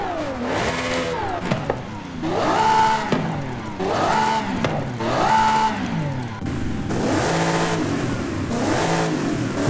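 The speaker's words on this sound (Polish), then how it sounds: "Pamiętacie jak ta V12 brzmiała w czwórce?" A Racing V12 car engine in Forza Horizon 5 revs repeatedly, each burst climbing and falling in pitch in a rhythmic series of loud, close blips with no talking over it.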